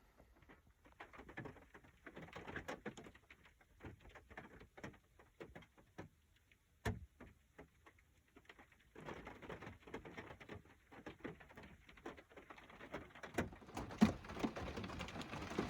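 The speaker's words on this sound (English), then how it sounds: "as you can hear, the rain is coming down" Rain patters steadily outside a van parked at a campsite in a wildlife management area at dawn, soft irregular drops building denser toward the end, with a sharper tap or two and birds calling faintly behind.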